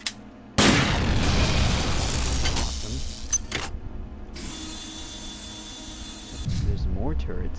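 Laser turret in System Shock 2 firing in loud, sustained hissing bursts, one long blast followed after a short gap by a second, with softer mechanical noises between.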